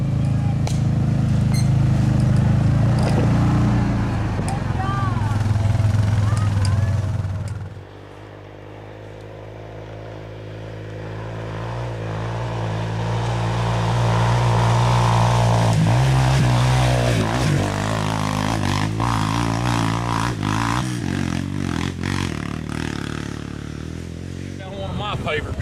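An off-highway vehicle engine revving and accelerating on a trail, a steady loud drone that dips, then climbs again in pitch, with talking over it.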